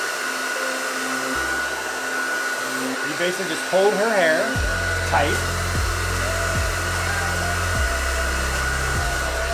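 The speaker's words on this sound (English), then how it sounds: "basically you can just turn the dryer on and dry her roots for her" Handheld hair blow dryer drying a woman's hair at the roots, starting up partway through and then running as a loud, steady whir with brief changes in pitch, while someone talks over it.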